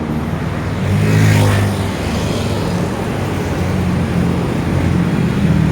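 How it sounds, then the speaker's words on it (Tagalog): Steady roadside traffic in Bulacan, a loud continuous roar of many vehicles with one car swelling past close by early on, then a constant rumble without talking. "tingin muna po tayo sa kaliwat kanan baka mabangga tayo ng mga sasakyan madami pong mga sasakyan"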